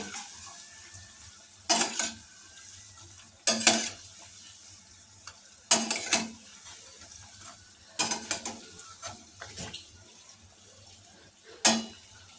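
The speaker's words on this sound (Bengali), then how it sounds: "উল্টে দিয়েছি আবার এই অপর দিকটা অনেকক্ষণ ভাজা হবে" Raw green banana kofta balls frying in hot oil in a kitchen, with a spatula flipping them: a steady low sizzle broken by five sharp scraping clinks at regular intervals, close and clear, with no talk.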